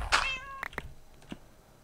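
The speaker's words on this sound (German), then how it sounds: "Ist hier drin ganz schön Radau mit den Katzen" Cats meowing in the video game Minecraft: one clear drawn-out meow up close, then a few shorter, fainter mews trailing after, no talk over them.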